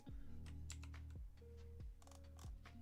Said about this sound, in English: keyboard's really loud